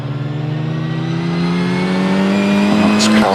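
A Nike Mark 4 Formula Ford race car accelerates hard at a hillclimb, its engine note climbing steadily in pitch, loud and close, with faint commentary beneath.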